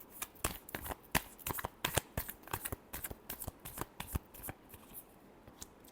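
Tarot cards being shuffled by hand up close, a quick run of crisp riffling flicks and soft slaps that repeats steadily for several seconds.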